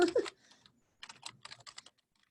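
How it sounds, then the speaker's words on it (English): Fingers type an email on a computer keyboard in short clustered bursts of clicks and key taps, close and fairly loud, after a brief opening sound; no one speaks. "So I'm typing in my email."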